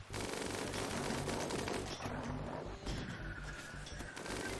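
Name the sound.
defensive turrets firing in the video game Rimworld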